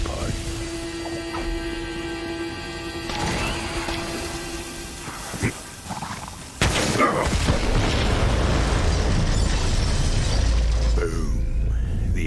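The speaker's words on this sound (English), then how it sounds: "The explosion echoed through the forest" Bombs detonating in the Borderlands 3 video game, one heavy boom near the middle followed by a sustained rumbling roar and debris, loud and close.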